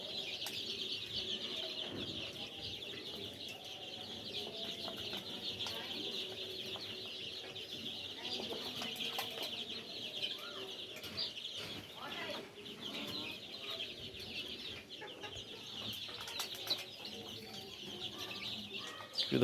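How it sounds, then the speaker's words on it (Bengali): Sonali chickens cluck and peck while eating azolla, soft scattered fowl calls and a few wing flaps at a moderate distance, with someone speaking over them. "যখন একটা মুরগি একটা অ্যাজোলা নিতেছে, অন্য 5টা মুরগি এসে অ্যাজোলাটা খাই ফেলতেছে।"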